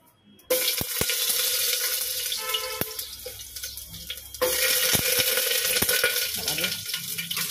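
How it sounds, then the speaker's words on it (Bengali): Cut and washed potatoes drop into hot oil in a home kitchen, setting off a loud, steady sizzle and crackle with sharp clicks and clatter, the frying surging louder halfway through. "এখন তেলটা গরম হয়ে গেছে, দেখো তেলটা গরম হয়ে গেছে, আলুগুলো ভাজবো।"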